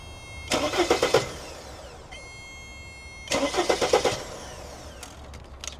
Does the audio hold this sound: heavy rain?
no